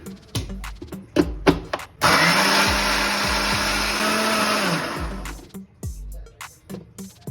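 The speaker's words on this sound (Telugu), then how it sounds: "దీన్ని ఇట్లా మనం మిక్సీ పట్టేసుకుందాం" A mixer grinder whirs loudly for about three seconds, blending a hair pack of egg and fenugreek water, with clicks and handling knocks before and after.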